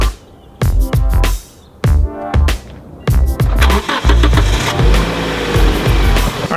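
A Nissan Stanza Wagon being jump-started from a Scion xB cranks in several short, loud bursts separated by pauses, then catches and runs roughly with uneven revving.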